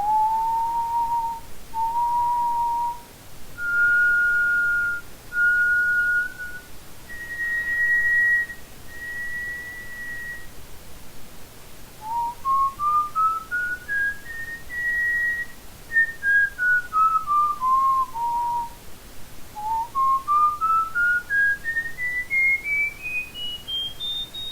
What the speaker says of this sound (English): two breathing directions while whistling the same pitch